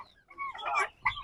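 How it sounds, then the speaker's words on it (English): Turkeys at a ranch give a few close gobbling clucks in short bursts, with a sharper call near the end and no talking. "my turkeys are here."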